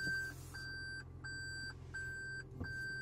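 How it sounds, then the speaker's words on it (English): Steady repeated electronic beeps in a regular on-off rhythm, the reversing alarm of a 2019 Toyota Prius Limited, with low engine rumble underneath. "is it beeping just to let me know I'm in reverse?"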